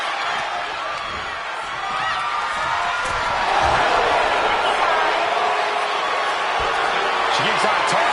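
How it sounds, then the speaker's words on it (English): A wrestling match crowd on its feet roars and cheers in a sustained, loud, dense wall of noise, swelling slightly partway through, with a few scattered whoops and thuds. "Just listen to this crowd. Every one of them is on their feet."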